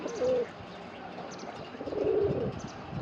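Male pigeon cooing at a female, a few soft low coos close by with faint background noise.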